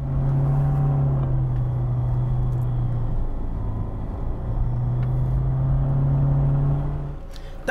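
A Lada Niva 4x4 engine drones loud and close with a steady low hum, dips briefly in the middle, then climbs back before trailing off; no one speaks.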